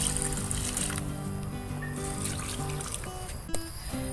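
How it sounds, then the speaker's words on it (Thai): Water trickles and splashes steadily onto soil in a planting bag during ordinary watering of a potted cutting, a soft continuous dribble heard close up. "รดน้ำตามปกติ"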